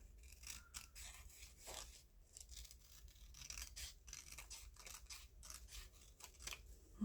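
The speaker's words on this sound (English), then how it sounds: "I need to just barely trim off the white edge over here." Scissors snip along the edge of a paper page, a quick run of faint, close crisp cuts and slicing rasps at an uneven rhythm, quiet and alone.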